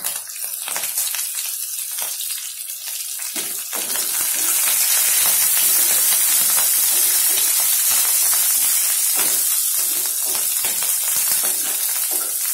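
Curry leaves dropped into hot oil for a chana dal and cabbage sabji crackle and sizzle loudly and steadily, the frying growing denser and fuller after the first few seconds, with no voices over it.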